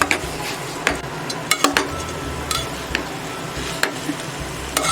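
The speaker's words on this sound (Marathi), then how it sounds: "तांदूळ भिजवलेले असल्यामुळे जास्त परतायचे नाहीत आपल्याला, हलक्या हातानेच परतून घ्यायचे आहेत" Soaked rice is gently sautéed in a kadhai, with a spatula tapping and scraping the metal in scattered, irregular clinks over a soft background rustle.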